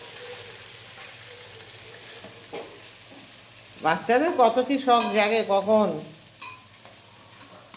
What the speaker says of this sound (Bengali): ও চিকেন ভাজা বসিয়েছি, চিকেন নাড়ছে